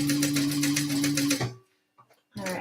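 A sewing machine stitches a tote bag in a fast, steady mechanical chatter for about a second and a half, then stops. A short quiet follows, with a few small clicks before another brief burst.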